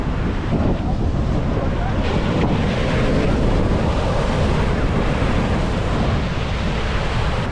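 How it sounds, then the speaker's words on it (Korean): Strong ocean surf at Nusa Penida, Bali, a steady loud roar of crashing and churning water mixed with heavy wind buffeting the microphone throughout. "진짜 살면서 맞아본 파도 중에 제일 센 파도예요"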